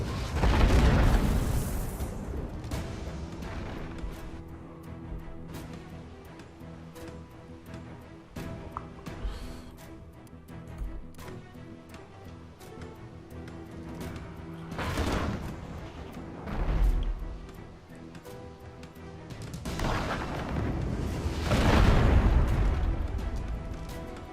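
Repeated booming ship cannon blasts in a naval video game, loud and close, several heavy bursts spread across the stretch with a steady rumbling background between them.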